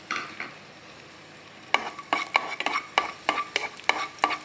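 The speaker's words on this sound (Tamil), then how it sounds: "திராட்சை பார்த்திங்கன்னா நல்லா வறுத்து எடுத்துக்கலாம்" Raisins frying and being stirred in a pan for sweet pongal: quiet at first, then a run of sharp, rhythmic scraping strokes, close and fairly loud, over a light sizzle.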